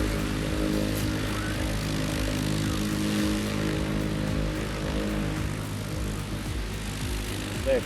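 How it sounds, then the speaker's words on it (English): A 767 cargo plane lands at Istanbul Airport without its front landing gear, its engines giving a loud, steady, close drone with a deep rumble that holds without a break. "767 cargo plane touched down at Istanbul Airport without its front landing gear."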